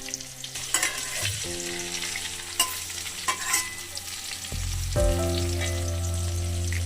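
Garlic cloves frying with spices and a little salt in a pan for garlic pickle, a steady sizzle with frequent stirring clinks and scrapes, close and fairly loud, with the sizzle swelling louder toward the end.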